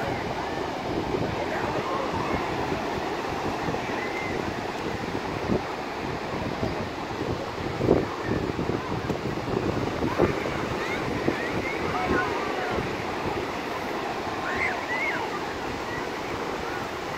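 Ocean waves wash onto the shore in a steady broad roar, mixed with gusting wind buffeting the microphone and faint voices now and then in the background.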